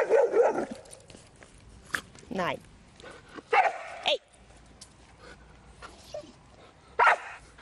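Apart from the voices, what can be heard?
dog barking and whimpering at another dog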